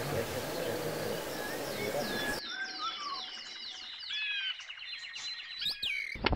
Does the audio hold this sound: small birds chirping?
yes